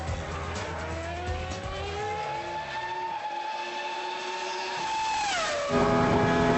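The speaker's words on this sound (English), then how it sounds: "Too much rear bias and this can happen. The rears lock and the car will instantly try to spin." A race car's engine note drops sharply as the rear wheels lock under heavy braking and the car spins, the revving tone sliding downward over a steady roaring, scrubbing noise, with no talking.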